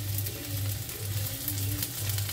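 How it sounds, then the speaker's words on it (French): Onions cook in a pan with a continuous close sizzle, while a low pulsing hum swells and fades in a regular rhythm beneath the hiss, and no one speaks. "je laisse bien cuire mes oignons"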